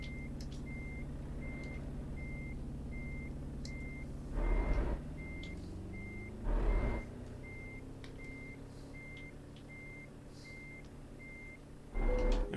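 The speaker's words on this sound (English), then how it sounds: "So let's just reverse this truck in," A truck in Euro Truck Simulator 2 backs up with steady, evenly spaced reversing beeps over a constant low engine drone, broken by three short bursts of louder noise, with no talking.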